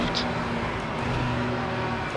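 A Super Touring race car in the Assetto Corsa sim racing game gives a steady, loud engine drone that holds without a break for about two seconds, with no voices over it.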